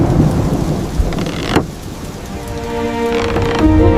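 A rainstorm pours steadily on surfaces around a tree house while thunder rumbles loudly and close, rolling through the downpour with a sharp crack partway before fading back under the rain.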